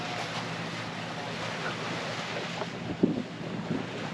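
A sailboat cruising around the Whitsundays off Airlie Beach, with steady wind buffeting the microphone over the wash of water and waves, a low hum underneath and a few brief knocks near the end.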